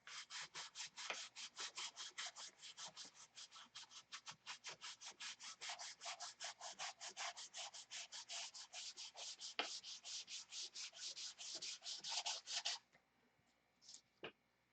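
Sandpaper rubs back and forth over a fiberglassed model aircraft fuselage in fast, even strokes for about twelve seconds, close and clear, then stops, leaving a couple of faint scrapes.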